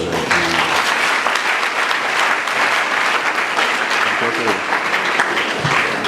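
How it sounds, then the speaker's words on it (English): Sustained audience applause fills a school's 50th anniversary celebration at Juaben Senior High School, a dense, steady wash of many hands clapping at even loudness for several seconds. "Another round of applause for Dr. Amachi."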